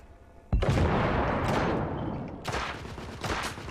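Heavy gunfire in The Order: 1886, a loud sudden burst that turns into sustained, dense volleys of shots with a second surge of firing near the end, no voices.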